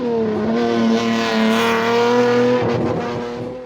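Classic rally cars built before 1985 race at the East Africa Classic Safari Rally, one engine roaring loud and close at high revs with a steady rising drone that rasps as it pulls past.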